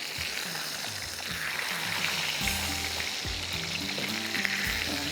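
Chicken pieces frying in hot oil for a crispy chicken fry, a steady loud sizzle and bubble that fills the whole stretch, with a few low knocks and thuds from the pan underneath and no talking.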